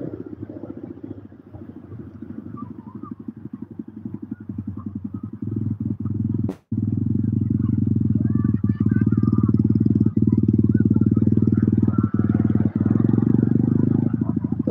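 Rented motocross motorcycles ride on a beach at low tide, a loud, continuous engine drone that stays close, with rattling clatter and faint background voices.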